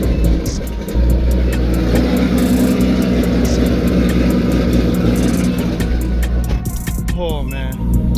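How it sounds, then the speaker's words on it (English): Extremely loud 1000HP Infiniti G35 engine driving on a street, a dense close roar with sharp bursts and crackles, with a brief voice partway through. "This thing is honestly ridiculously loud to drive on the street"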